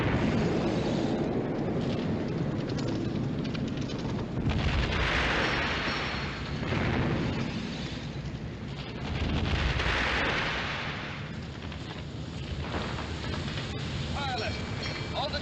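Naval shells burst in a 1956 film battle off the River Plate, heavy booms swelling and rolling loud and dense around the ship, with repeated rumbling blasts layered under a continuous roar while shouted voices cut in.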